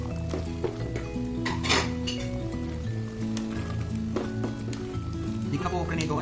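Ladled beans go into a pot of beef caldereta, giving a few clinks and a soft clatter against the cookware over steady background music, with a faint sizzle underneath.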